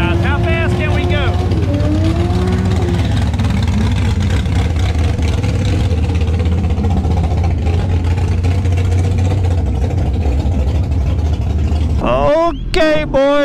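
A tuned motorcycle with full exhaust, ECU flash and tune and a factory quick shifter, roaring steadily and loudly as it accelerates down a track in Curaçao, with rising and shifting engine tones near the end.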